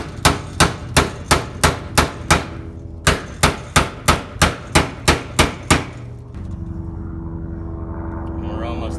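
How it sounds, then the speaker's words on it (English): A hammer drives a Milwaukee striking-cap screwdriver against a tab on a Camaro fuel pump lock ring, giving about fourteen sharp, close metallic knocks in a steady rhythm before they stop and a low droning noise takes over. "Just get on one of these tabs and knock on it until the ring turns counterclockwise."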